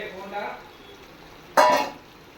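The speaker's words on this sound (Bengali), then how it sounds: "দিয়ে দেবো এর মধ্যে ভেজে রাখা পটল।" Fried pointed gourd tipped into a pan lands with a sudden short clatter and sizzle near the end, after quiet kitchen background.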